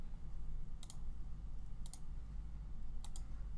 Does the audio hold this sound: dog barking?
no